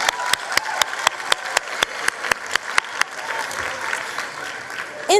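Applause for KwaZulu Natal at a 2023 matric results announcement ceremony: a crowd claps steadily with sharp, regular beats standing out, filling the hall for about five seconds before fading slightly at the end.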